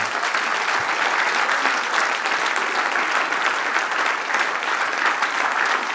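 A church congregation claps steadily for several seconds, a dense, even roar of hands filling the room without any speech.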